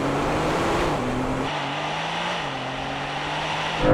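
A Porsche Turbo S and a Carrera GTS launch in a drag race with wheel spin, a loud sustained engine roar climbing through gear changes, heard from inside or near the car, no voices.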